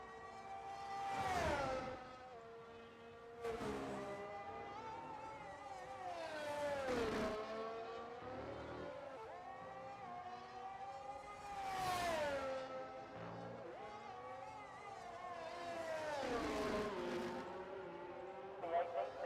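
Formula 1 cars in the F1 23 racing game at the Australia circuit roar past one after another, each engine note rising and falling in pitch as it sweeps by, with repeated passes at moderate loudness.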